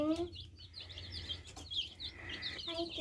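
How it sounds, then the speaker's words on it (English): New baby chickens give high, thin peeping chirps in short bursts, close by, against a low background rumble. "You like your new baby chickens?"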